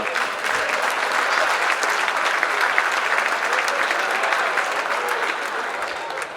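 A hall full of people at a shooting guild festival reception in Limburg claps for the year's jubilarians, a continuous, even roar of applause that holds steady throughout and eases a little near the end.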